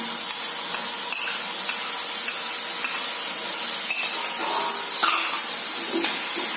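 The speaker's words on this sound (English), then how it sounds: "Saute for a minute" Chopped capsicum sautéing in a pan gives a dense, steady sizzle throughout, with occasional stirring scrapes and light utensil taps rising above the constant hiss.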